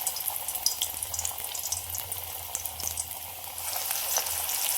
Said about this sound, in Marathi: आता आपण गरम गरम तेलात भजे घालूया.